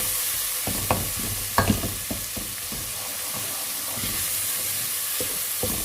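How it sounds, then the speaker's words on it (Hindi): Urad dal with turmeric and garam masala is stirred in a hot pan, a spoon scraping and knocking in irregular strokes over a steady frying sizzle, close and with no talk. "इसको हिला लेंगे इसी तरह से।"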